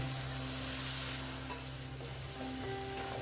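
Cashew paste and a splash of water going into a hot frying pan for a pointed gourd dish, giving a continuous close sizzle with light stirring and scraping, no voices.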